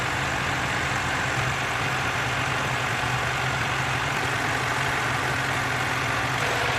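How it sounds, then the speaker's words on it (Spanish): A Bajaj Dominar 400 motorcycle engine idles nearby with a steady, even rumble that holds unchanged throughout, with no voices. "vamos a encender la motocicleta"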